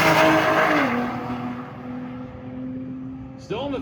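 A drag race car at full throttle at a TX2K event sends out a loud engine drone that drops in pitch as it pulls away down the strip, fading gradually before a brief new burst of noise at the end.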